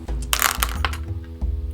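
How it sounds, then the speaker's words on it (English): Dice rattle and clatter as they are shaken and tipped out of a dice jar, a close, brief jumble of hard clicks and knocks over a low background rumble. "I'm just getting my dice out my dice jar."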